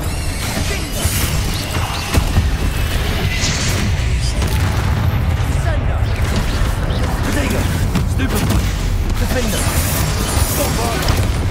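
Bombarda explosion spells cast in Hogwarts Legacy, dense continuous booms and crashing impacts layered over battle noise, loud and close, with a voice speaking over them.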